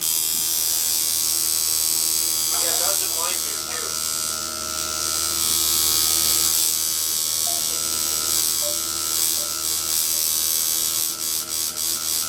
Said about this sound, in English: You can hear how my machine kind of sounds a little lower once I start tattooing.